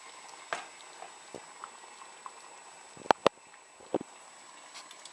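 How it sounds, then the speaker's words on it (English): Hamburger Helper cheesy enchilada with rice simmering in a pan, with a soft steady bubbling bed broken by a few sharp pops and bursts, close and quiet, no talk. "I'm going to reduce it, because I need to simmer it for about 20 minutes."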